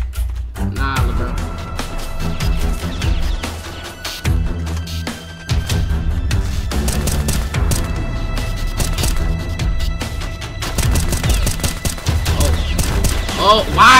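Rapid bursts of gunfire fill a Roblox South Bronx game session, loud and near, layered over a thumping bass-heavy music track with a few pauses between volleys.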